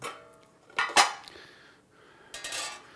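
A metal steamer pot lid clinks and clatters onto the pot a couple of times, then rattles briefly as it settles, close by in a quiet room.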